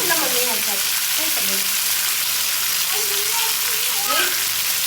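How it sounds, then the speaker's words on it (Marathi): Fish shallow-frying in oil in a home kitchen pan over lowered heat, giving a steady, dense sizzle that fills the whole clip, with faint bits of talk in the background. "आता आपण गॅस कमी करूया आणि छान मग तळून घेऊया"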